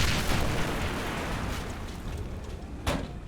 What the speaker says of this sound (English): Grenade toss on the first mortar position is short.